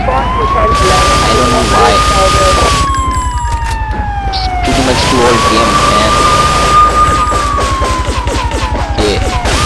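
An ambulance siren in Grand Theft Auto III wails in long rising and falling sweeps, loud and close, with game traffic and gunfire noise underneath while a player talks.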